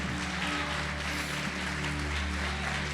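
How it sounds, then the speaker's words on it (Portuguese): A church congregation applauds and praises during a pastor's sermon, a steady wash of clapping heard at moderate distance over a low hum, with no voices on top. "Você pode aplaudir e glorificar o Senhor por isto."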